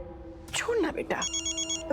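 A telephone rings with a steady electronic trill, mid-loud and close, repeating under and between people talking in a Hindi TV drama household scene.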